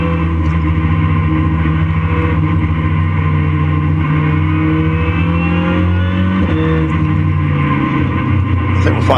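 Racing cars circle the Donington Park circuit at a national race meeting, a steady blended engine drone with rising and falling pitch, while a commentator talks over it throughout.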